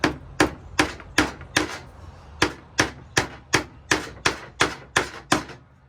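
Small ridged paneling nails hammered into the end of a wooden board while building a robin nesting shelter, about fourteen sharp, close blows in a quick, steady rhythm with short ringing decays.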